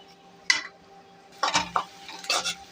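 Onions fry in oil while being stirred, with a soft background sizzle broken by a few scraping, clattering strokes of a utensil against the pan, close and intermittent.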